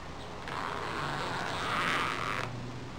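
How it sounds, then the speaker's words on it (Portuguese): An invisible zipper is drawn closed along pinned and basted fabric, giving one soft, steady, close rasp that lasts about two seconds over quiet room noise. "a gente vai fechar o nosso zíper"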